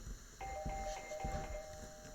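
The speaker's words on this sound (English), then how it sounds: "Jesus Christ, doorbell." A doorbell rings in the horror video game Tiny Bunny, a sustained electric ring held over a low, rumbling game ambience with steady faint thuds.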